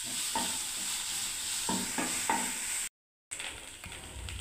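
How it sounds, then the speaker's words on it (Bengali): Spoon stirring pointed gourd mash in a frying pan, with soft sizzling and repeated scraping strokes against the pan and a brief gap of silence partway through. "এই দেখুন বন্ধুরা, সমানেই নাড়তে হচ্ছে বন্ধুরা, দেখুন।"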